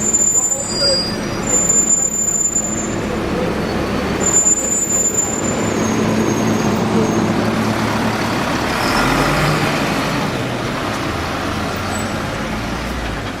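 Alexander ALX400 London bus VLA 27 on a Route 176 journey through the Tottenham Court Road diversion, a steady engine drone amid continuous roadway traffic, with faint voices and a brief hiss midway.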